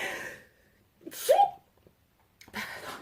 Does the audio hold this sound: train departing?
no